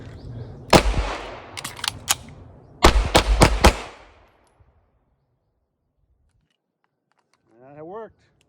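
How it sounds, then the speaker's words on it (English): Pistol firing a string of sharp, loud shots: a few spaced cracks, a short pause for a magazine change, then a rapid burst of close reports, followed by silence and a brief voice at the end. "now we can try our 5 shots in 4 seconds with a mag change"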